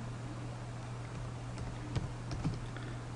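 Typing on a computer keyboard, a few light key clicks close by over a steady background hiss, with no one speaking.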